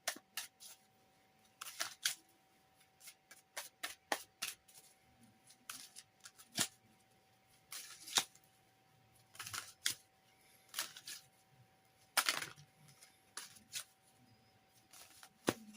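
Tarot cards from the Linestrider Tarot deck are handled and drawn, giving a run of quiet, close, crisp papery snaps and shuffling flicks in irregular bursts with short pauses between.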